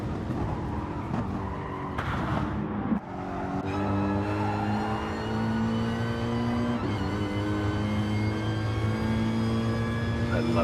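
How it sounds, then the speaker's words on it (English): Group 3 race cars screaming around Monza in a racing video game, loud high-revving engines with rising and falling gear-change pitch sweeps, a brief skid or shift break near the start, steady and close throughout. "I love the sound of these Group 3 cars"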